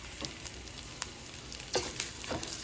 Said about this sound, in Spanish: Ya le pusimos el aceite, lo que es la cebolla.